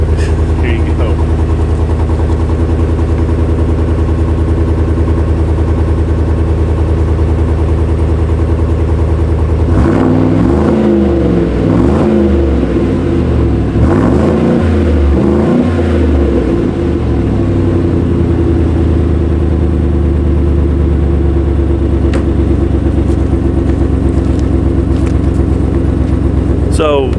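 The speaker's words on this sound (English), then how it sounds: "Somebody somewhere is going to want to hear it revved" A 2021 Chevy Silverado RST Sherrod Eclipse Edition pickup with a modified exhaust idles with a low rumble, then revs several times in a row mid-clip before settling back to a steady idle, loud and close.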